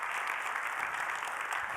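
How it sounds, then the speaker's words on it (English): An audience claps at a technology festival's closing award ceremony on the main stage, a dense, even burst of applause filling the hall for about two seconds. "I can't applaud, so if you could do this for me."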